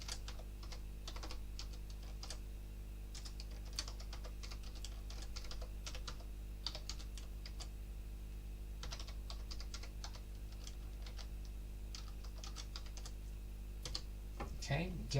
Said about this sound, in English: So let me type it into the chat.